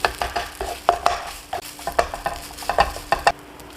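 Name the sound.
stir-frying fried rice with a spatula in a frying pan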